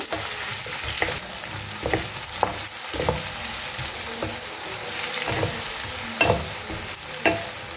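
Chopped onions frying in a pan for a jackfruit and prawn curry, steady sizzling with periodic scraping stirs of a spatula, close and continuous with no talk.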